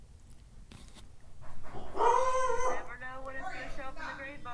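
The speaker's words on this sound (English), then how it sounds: "What are you barking at now?" Oreo, a pet dog, gives a loud drawn-out howl with tonal whining rising over the middle of the clip, close by and overlapping a person's speech.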